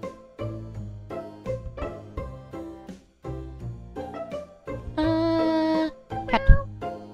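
Cat meows in the video game Cats Hidden, several short cartoonish mews over a bouncy looping game melody, followed by a brief click-like chime near the end.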